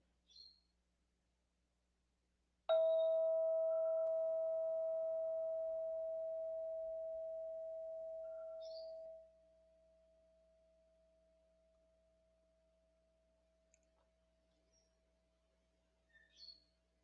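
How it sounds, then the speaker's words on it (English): A meditation bell is struck once and rings a clear, steady tone that slowly decays, then drops to a faint lingering hum in a quiet room, with a few soft distant chirps around it. "as the bell tone has faded away"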